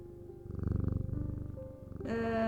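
A cat in the video game Strange Antiquities purrs in a soft, rhythmic pulsing rumble, close and alone, before a brighter musical tone takes over at the end.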